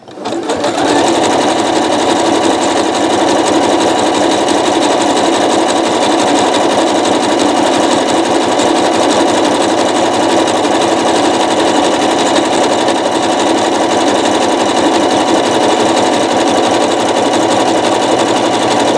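A sewing machine stitches thread into a rope bowl nonstop, a loud, dense, close mechanical whir that holds steady for the whole stretch with no pauses and no voices.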